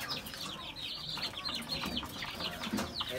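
Young chicks of one to two months cluck and peep softly in a continuous, busy flock chatter, faint and close, with some rustling and scattered wingbeats.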